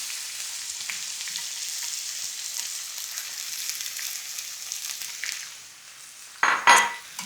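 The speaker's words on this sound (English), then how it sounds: "I can already smell the cumin starting to sizzle away. I'm going to pop in my onions" Cumin and onions sizzle steadily in hot oil in a pan, a close, continuous hiss. Near the end the sizzle eases and a few sharp clatters of a utensil against the pan cut in.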